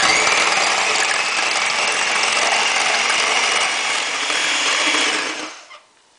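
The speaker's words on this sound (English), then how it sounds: "now I'm going to beat this with an electric mixer until soft peaks form." An electric hand mixer whirs steadily as it beats egg whites with cream of tartar for a chocolate soufflé, a continuous buzzing drone that cuts off near the end.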